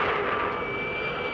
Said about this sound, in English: Now you could hear it. You could hear the engine in the background.